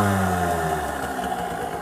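A Gilera 50cc motorcycle engine runs close by, a steady loud idle with a low harmonic drone and a slight rise in pitch as the throttle opens, heard alone with no talk.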